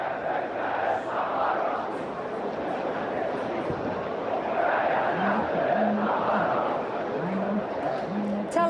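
A large protest crowd chants in Tahrir Square, Cairo, as a dense, continuous roar of many voices, with rhythmic chant phrases rising out of it in the second half.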